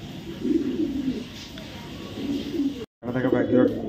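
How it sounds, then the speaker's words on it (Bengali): Several racing pigeons coo in low, throaty bursts close by, briefly cut off by a moment of silence before the cooing resumes. "দেখেন জাস্ট কবুতর দেখেন"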